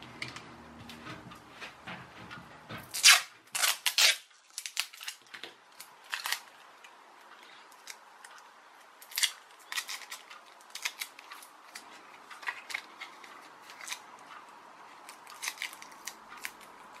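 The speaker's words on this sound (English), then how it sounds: "I'll tape the penny on the front and see how that does" Tape being handled while a penny is fixed to the nose of a cardboard and coffee-stirrer glider, with sharp crackling tape pulls and rips in irregular bursts close by, quiet between, no speech.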